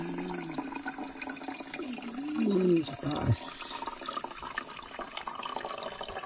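Spring water flows strongly and steadily, a constant rushing stream filling containers outdoors, with brief talk over it.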